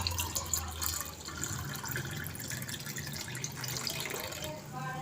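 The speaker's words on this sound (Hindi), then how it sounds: "इसी तरीके से मैं इस गिलास में भी डाल रही हूँ" Shikanji lemonade pours steadily into a glass in a home kitchen, a continuous liquid splash and trickle close by, with a voice partly over it.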